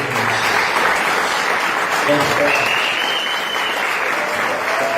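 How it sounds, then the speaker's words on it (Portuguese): A church congregation applauds in steady, dense clapping that fills the room, with a few voices faintly audible beneath it. "Põe a Bíblia no teu assento e vamos aplaudir esse Deus aí."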